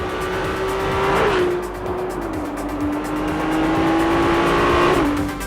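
A Ferrari 296 GTB sports car's engine drones loud and close with a steady high-pitched tone, shifting pitch in small steps as it runs and revs, over road and tire noise with no voices.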